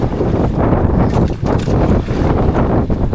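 Strong wind at sea on a small fishing boat, heard as loud, steady low buffeting with rushing gusts that surge and ease, with no voices.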